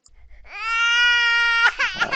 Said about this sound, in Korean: 아기 울음소리로 할게요